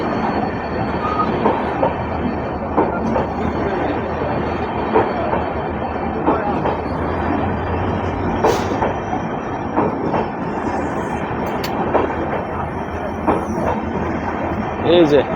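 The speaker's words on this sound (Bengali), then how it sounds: "এই যে নতুন রূপে যে এলএসবি কোচ নিয়ে ঢুকছে আগরতলা রেলওয়ে স্টেশন" Kanchanjunga Express with new LHB coaches pulling into Agartala railway station, a steady rumble of rolling wheels with faint rail clicks and occasional sharper metallic squeaks, continuous and fairly close, with some voices in the background.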